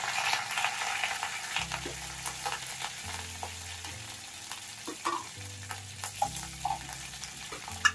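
Washed curry leaves drop into hot oil for moong dal tiffin sambar and sizzle and crackle steadily, close up, with occasional stirring clinks against the pan and a low hum underneath.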